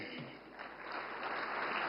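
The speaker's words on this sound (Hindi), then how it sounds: "हाँ, अब ताली बजी।" Audience applause at a political speech on Indian government policy, a faint, distant, steady wash of clapping throughout, with no speech over it.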